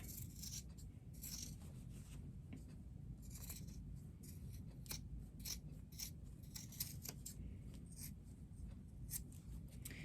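Scissors snip through the fabric of a microwaveable bowl cozy in short, crisp, repeated cuts, faint and close over low background hum.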